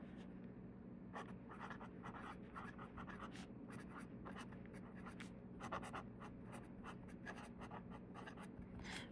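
A broad-nib Le Bon 325 fountain pen in Wisteria writes in lavender Diamine Leonardo ink, giving close, steady scratchy strokes in short bursts with brief pauses between words.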